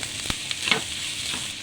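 Chopped onion frying in a pan, a quiet steady sizzle with a few brief scraping stirs.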